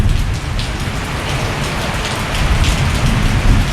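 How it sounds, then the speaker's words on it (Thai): Heavy rain pours down steadily in Thailand, a dense loud hiss of drops drumming on surfaces that swells slightly toward the end. "โอ้ ฝนตก อย่างนัก ตกอย่างหนัก"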